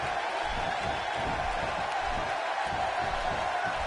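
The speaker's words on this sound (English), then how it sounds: "Cole, you can hear it in the crowd's reaction" A wrestling crowd in a WWE video game match roars as a steady, dense wash of arena noise with no clear peaks or breaks.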